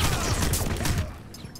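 Rapid gunfire from the video game Crysis bursts loudly for about a second, then cuts off and leaves a quieter tail.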